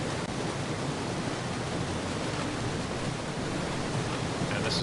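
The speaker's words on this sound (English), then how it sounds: "And you can really hear that waterfall." A waterfall in the off-road driving game SnowRunner gives a steady, dense roar of rushing water that stays at an even level throughout with no other clear sounds.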